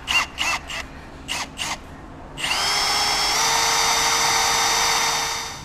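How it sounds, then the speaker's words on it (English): A power drill with a 1/8 inch bit bores into a tire carrier bracket for a Lexus GX470, a steady high whine after a few short bursts, close and loud. "So the size we're gonna be using is an 1/8 inch drill bit here"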